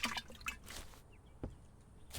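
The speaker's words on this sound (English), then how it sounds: "you can see the water dripping off of them" Water dripping off freshly watered crops in the indie horror farming game We Harvest Shadows, a few light, soft drips spaced irregularly across a quiet background.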